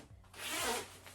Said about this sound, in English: And very nice zipper, a very comfortable zipper on here.